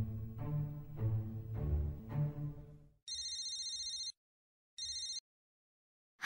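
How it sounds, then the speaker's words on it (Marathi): A phone ringtone trills in two bursts, a long ring then a short one, loud and electronic, following a stretch of background music. "मीनाचा फोन."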